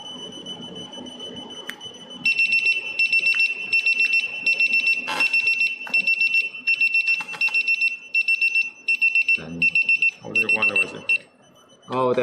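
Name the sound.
TPMS tire pressure sensor fast leakage alarm beeping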